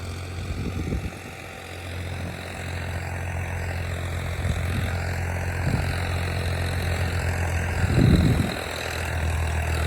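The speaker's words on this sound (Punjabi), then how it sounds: "ਪੂਰੇ ਲੋਡ ਤੇ ਰਹਿੰਦੇ ਆ ਪਲਾਉ ਦੇ ਉੱਤੇ ਟਰੈਕਟਰ" A 55 HP tractor pulling a Lemken 3MB plough under full load in a potato field, its engine holding a steady, continuous drone with a few heavier low surges.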